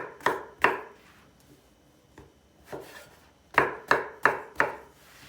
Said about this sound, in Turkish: Patlıcanlarımızı kuşbaşı doğrayacağız.